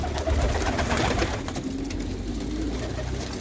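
Many pigeons in a large pigeon loft in Saudi Arabia coo together in a dense, continuous murmur, close and steady throughout.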